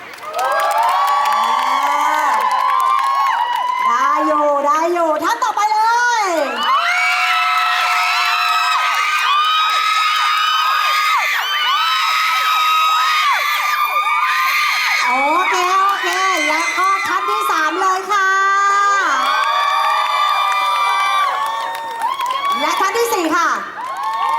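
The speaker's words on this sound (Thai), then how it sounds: "ขอเสียงกรี๊ดให้กับน้องท่านนี้หน่อยค่ะ" A large crowd screams and cheers continuously, shrill high-pitched shrieks and whoops rising and falling without a break, loud and close.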